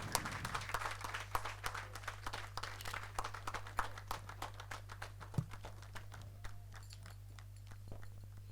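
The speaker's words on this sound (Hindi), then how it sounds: "तालियों से स्वागत करें।" Audience applause at a Railway Protection Force passing-out parade ceremony in Nashik, a steady patter of many claps over a constant low hum, moderately loud at first and thinning toward the end, with no voices.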